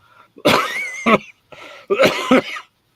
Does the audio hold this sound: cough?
yes